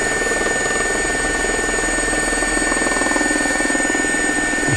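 A helicopter engine in a flight simulator game whines and thrums steadily, a constant dense rotor drone with no pauses, flying in gusty crosswind.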